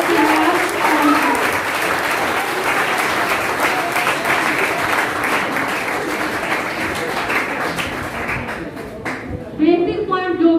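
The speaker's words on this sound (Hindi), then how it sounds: "तो सर के लिए मैं चाहती हूँ तालियां हो जाए" Sustained applause from an audience at a coaching institute felicitation in Gopalganj for a NEET achiever, honoring the teacher; dense clapping fills most of the span, fades near the end, and a speaking voice comes in over it.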